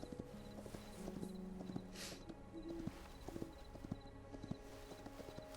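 Horse hooves clip-clop in the game Hytale with a steady, close rhythmic walking gait over a low background score, and occasional brief breathy noises.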